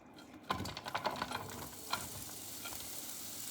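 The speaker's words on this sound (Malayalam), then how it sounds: "വെളിച്ചെണ്ണ ഒന്ന് ചൂടായിട്ട് വരുമ്പോഴത്തേക്കും നമുക്ക് അരിഞ്ഞു വെച്ചിരിക്കുന്ന സവോളയും മുളകും കറിവേപ്പിലയും ഒന്ന് ഇട്ട് കൊടുക്കാം." Chopped onion, chili and curry leaves drop into hot coconut oil, a burst of crackling pops settling into a steady, soft sizzle, close but fairly quiet.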